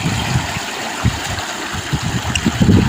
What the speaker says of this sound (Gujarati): તણાઈ જાય એટલું પાણી જાય છે